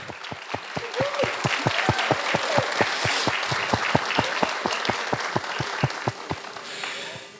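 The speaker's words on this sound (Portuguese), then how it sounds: "Uma salva de palmas" An audience at a book launch for a Catholic seminary and shrine, Nossa Senhora de Caravaggio, gives a round of applause, with many hands clapping in a strong, fairly even rhythm over a dense crowd roar that fades near the end.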